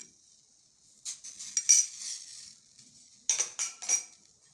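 A spoon stirring sugar into homemade baby food, giving light clinks and scrapes against the bowl in two short clusters separated by quiet, heard close and faint with no talking.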